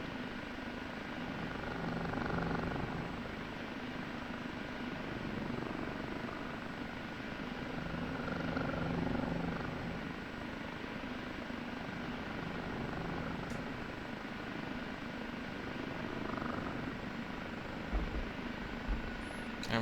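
An OH-58D Kiowa helicopter landing in the DCS combat flight simulator, with a steady, droning rotor and turbine hum that holds at an even level throughout and has no talk over it.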